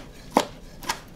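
A knife roughly chops dried shrimp on a board for Chinese sticky rice, giving two sharp, close chops about half a second apart over a quiet background.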